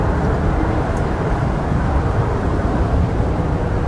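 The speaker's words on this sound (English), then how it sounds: "That airplane noise is just a small bit of flavor of what we grew up with." A loud, steady, broadband roar of an airplane passing overhead fills the scene continuously, a dense rumble with no pauses and no voices.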